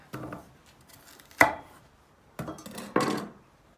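Raw potatoes chopped into large chunks with a knife on a cutting board: a few sharp, separate thuds in two short bursts with quiet gaps between, close by and with no voices.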